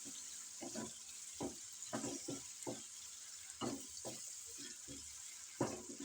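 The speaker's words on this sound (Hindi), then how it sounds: "इसको हम मसाले में मिक्स कर लेंगे, इसकी भुनाई करेंगे अच्छी तरह से ताकि मसाला इसमें रच जाए।" Mashed eggplant for baingan bharta is stirred and fried with masala in a pan, giving soft irregular scraping stirs over a steady faint sizzle, with no talking.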